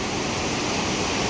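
Monsoon-swollen stream water rushes loudly and steadily through a channel, a dense close roar with no pauses and no voices.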